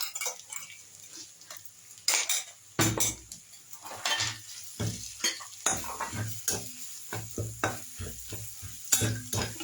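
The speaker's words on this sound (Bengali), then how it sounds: "এবার এটাকে একটু লাল লাল করে ভাজা ভাজা করতে হবে।" Ginger-garlic paste fries in oil in a pan while a spatula stirs and scrapes it, giving loud, irregular clanks and scrapes over a continuous sizzle, with no talking.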